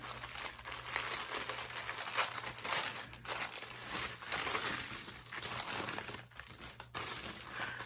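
Tissue paper wrapping around a small package crinkles and rustles as it is pulled open by hand, with repeated close, uneven crumpling bursts and brief pauses between them, and no talking.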